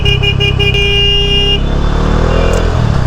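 Heavy office-hour road traffic with cars, a loud, dense engine rumble up close, a sustained horn blaring for the first half, then a rough idling roar.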